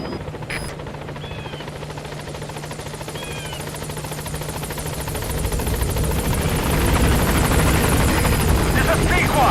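A support helicopter in Metal Gear Solid V swells in as it arrives at a landing zone, its steady rotor drone growing louder toward the end, with radio voice talk layered over it.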